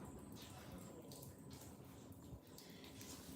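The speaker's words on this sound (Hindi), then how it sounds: "पानी गिर रहा है।" Steady broadband rush of tap water running in a household setting, continuous and fairly close, with no talk over it.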